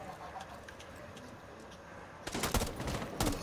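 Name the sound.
gunfire in the video game Rainbow Six Siege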